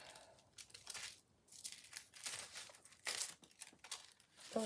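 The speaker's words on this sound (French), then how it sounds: "Là, je vais faire pareil. Je vais couper." Scissors snip through thread or material during a bead craft, a run of close, crisp crinkling cuts repeating over several seconds with no talk.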